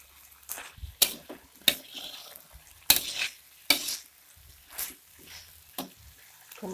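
Oyster sauce and sweet soy sauce stirred and sizzling in a hot pan for fried rice noodles, with sharp spatula scrapes and clacks at an irregular rhythm over a quiet sizzle, close and moderately loud.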